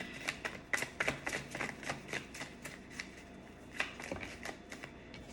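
Tarot cards are shuffled close up in quick repeated riffles, a fast papery flutter of crisp ticks and slaps running for several seconds at a soft, intimate level.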